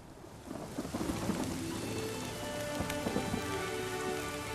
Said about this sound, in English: You can listen to that lightning and listen to the thunder.